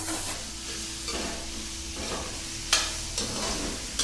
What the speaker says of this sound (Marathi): कांद्याला पण आपण मस्तपैकी शिजवून घेऊया हो. ब्राऊन होतपर्यंत ना गोल्डन ब्राऊन होतपर्यंत आपण आता शिजवून घेऊया